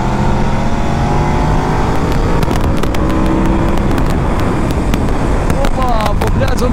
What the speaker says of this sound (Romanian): poplează un pic motorul, greu la ieșire